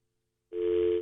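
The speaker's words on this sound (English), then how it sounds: "That is a dial tone." A telephone dial tone on a phone line: a single steady hum that starts abruptly after silence and holds clear and close for about half a second, then cuts off.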